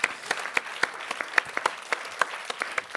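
A small audience at a French entrepreneur interview gives scattered, sparse clapping. Individual claps ring out at an uneven rhythm over a quiet room.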